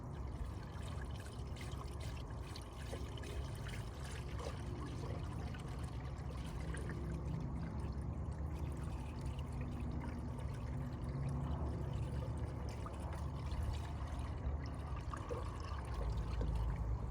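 Coolant is poured through a funnel into a Mercedes 240D, a steady low trickle and gurgle of liquid that runs continuously and fairly quietly, with no talking.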